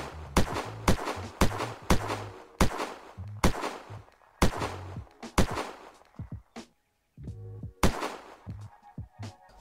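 A rapid series of sharp scoped-rifle gunshots in Unturned, evenly spaced, with a brief pause before several more shots; loud, close and dry like game weapon fire.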